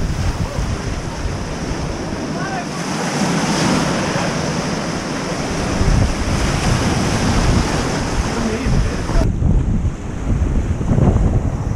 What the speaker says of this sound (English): we could climb down amongst the waves